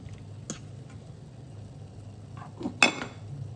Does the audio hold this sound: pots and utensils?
yes